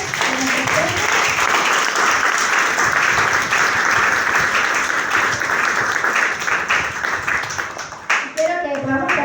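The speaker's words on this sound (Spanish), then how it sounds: "Entonces vamos a darle gloria a Dios con un aplauso." A church congregation claps loudly and continuously as worship gives glory to God. The applause is dense and sustained, with voices mixed in, and it tapers off near the end as other sounds come through.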